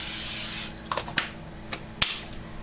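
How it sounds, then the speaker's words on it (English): Short bursts of cooking oil spray misting into a mixing bowl while making a yeast bread loaf, a few quick hisses spaced apart at close range, with no talking. "I sprayed my bowl."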